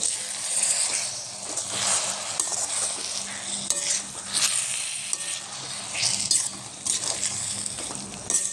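Salted amaranth leaves with moong dal sauté in a pan, giving a steady bright sizzle broken by occasional scraping stirs and light utensil clinks, close and moderately loud with no talking.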